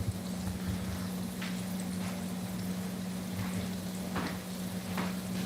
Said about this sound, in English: Finally, we got some sizzle going on.